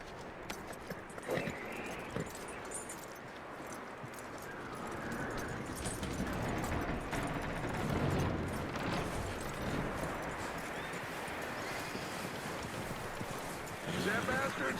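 Horse hooves clip-clop in Red Dead Redemption 2, a steady rhythm of moderate loudness heard under ambient game sounds and talk.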